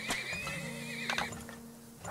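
A horse in the oil-drilling video game Turmoil gives a loud, high whinny lasting about a second, then a second shorter neigh, with faint hoof clip-clops and game ambience underneath.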